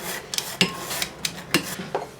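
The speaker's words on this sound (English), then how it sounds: "And I'm going to sift that cake flour." Cake flour is sifted by hand, giving a series of sharp metallic taps and rattles from a sieve against a bowl, several knocks spaced irregularly with soft scraping rustle between them, close and clear.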